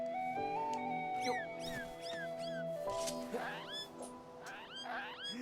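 A cat meows in the video game Legend of Zelda Skyward Sword, with repeated short rising and falling cries over a steady backdrop of game music.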